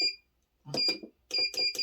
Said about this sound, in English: this timer, I'm going to set it at